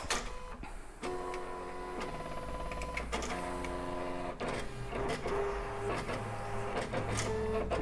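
A Silhouette Cameo cutting machine runs through a T-shirt design cut, its carriage motor whirring in steady stepped tones with brief clicks between passes, close and continuous throughout.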